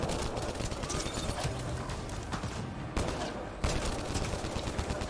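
Dense, continuous gunfire and overlapping shots in a Mass Effect Andromeda firefight, a steady loud barrage of rapid bursts with brief dips and sharp renewed volleys.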